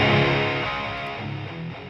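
Dense, distorted guitars sent through a console plug-in on a bus with added drive, a thick sustained wall of sound that slowly fades, no voices.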